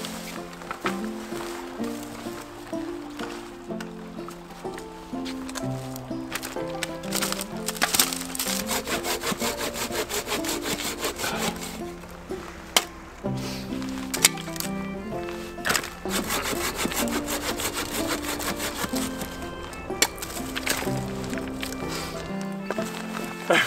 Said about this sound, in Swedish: jag ska såga lite